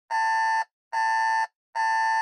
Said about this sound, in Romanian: Alarma m-a trezit.